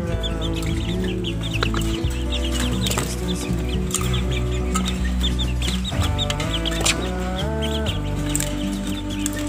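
Young junglefowl chickens about two months old clucking close by, a dense overlapping run of short clucks and chirps with a steady low background hum.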